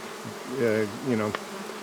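Honey bees buzzing around a beehive, a couple of close passes rising and falling in pitch over quiet outdoor background.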